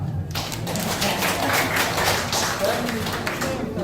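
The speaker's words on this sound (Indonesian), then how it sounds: "Tepuk tangan di sini yang sudah menikah." An audience at a stand-up comedy show applauds in a dense, steady wash of clapping that holds for several seconds, with a voice partly mixed in.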